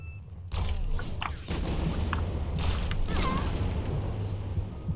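Gunshot headshot in the video game Supraland: a sudden loud boom followed by a sustained roaring blast and further thumps, close and heavy.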